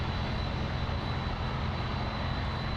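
Airplane engine droning steadily at Miami International Airport near Runway 09, a constant loud broadband rumble with a faint high whine, heard alone without voices.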